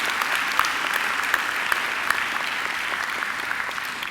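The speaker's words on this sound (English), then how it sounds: "I'm sure you'd like to join together in giving Angela another great round of applause." Steady applause from a graduation ceremony audience fills the hall, dense clapping at an even level throughout without pause.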